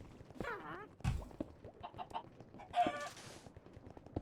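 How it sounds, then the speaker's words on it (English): A chicken in the video game Minecraft clucks and squawks up close in a few short bursts, with soft game sounds in between. "I heard a chicken."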